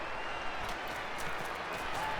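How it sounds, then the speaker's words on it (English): Noisy crowd in the Blood Bowl 2 fantasy football video game, a dense continuous murmur with scattered claps and cheers held at moderate level throughout. "Try to turn the crowd down a little bit."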